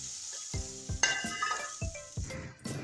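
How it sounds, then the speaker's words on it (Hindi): Hot oil tempered with twelve spices sizzles and crackles as it is poured over cooked moong dal, with a few light metallic clinks of a pan and spoon. "ये 12 मसालों का तड़का दाल के ऊपर डाल लें।"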